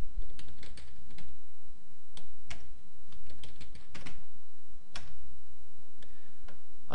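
Rapid computer keyboard typing to log on to Sage BusinessVision accounting software, a steady run of close, crisp key clicks with short pauses between bursts.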